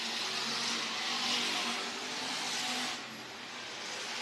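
Stock cars race through turns three and four on the Worthington Speedway oval, a continuous dense engine roar that swells and eases slightly as the pack passes.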